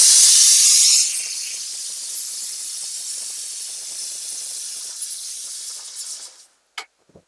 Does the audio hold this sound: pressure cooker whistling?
yes